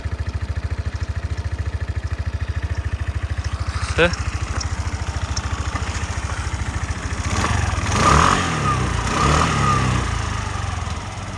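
A Suzuki Address V125 S scooter engine runs steadily with a rapid, even putter, then rises slightly in pitch and volume as it revs; people talk over it.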